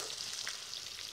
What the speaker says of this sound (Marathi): लगेच आपण कांदा टाकून घेणार आहे।